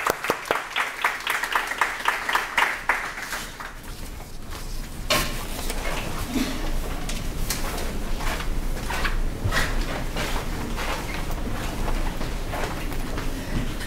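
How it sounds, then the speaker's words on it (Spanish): An audience at an educational technology presentation claps together in a dense wash of welcoming applause that starts lively and stays steady for several seconds, with no one speaking over it. "Pedimos un aplauso de recibimiento, por favor."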